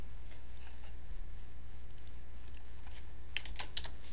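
Keys tapped on a computer keyboard while editing a calculated field in SalesPad Desktop report software, a few light clicks grouped near the end over a steady low hum, quiet and with no voices.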